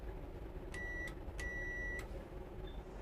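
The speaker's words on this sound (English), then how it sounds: "give the driver the ready to start signal on the bell or buzzer" Two short electronic rings of a railway guard's bell or buzzer ready-to-start signal to the train driver, each a steady high-pitched buzz under a second, separated by a brief gap over a constant low background rumble.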